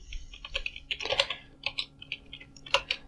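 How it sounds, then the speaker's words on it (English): Code is typed on a computer keyboard in an ethical hacking lab: quick, close, uneven clicks of keys in bursts, alone with no voice. "I will just type a small code right here."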